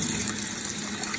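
Running water pours steadily over kefir grains being rinsed, a continuous close gushing splash like a tap stream, with no speech.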